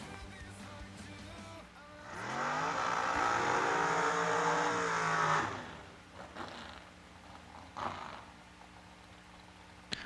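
Undercover dragster at a drag strip launching off the line: a sudden loud engine roar swells and holds for a few seconds with rising, sweeping pitch, then fades into the distance, leaving lighter crowd and track noise.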